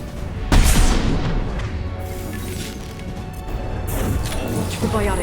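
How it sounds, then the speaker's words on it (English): A flashbang grenade goes off in the Mass Effect 2 video game, a sharp loud crash near the start followed by a lingering ringing wash and further clattering combat noise. "Facing away from the flashbang."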